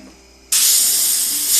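An airbrush starts spraying abruptly after a brief quiet moment, then gives a steady, loud, bright hiss of air and paint that holds for over a second.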